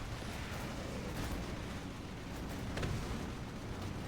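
Mortar Mishka units firing during a Rise of the Reds real-time strategy battle, heard as a dense, steady rumble of blasts and booms with a slight swell near the end.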